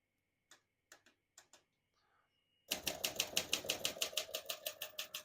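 Keystrokes on a 1963 Olympia SM5 portable manual typewriter: a few sparse, crisp strikes, then a brisk run of rapid, evenly spaced mechanical clacks, close and fairly loud with no voices.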